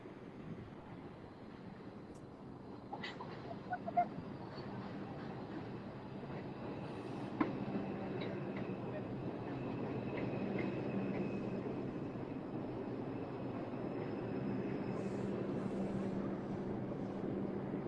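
A train rumbles steadily with wind-like rushing noise, a few faint squeals and clanks scattered through, and no talking.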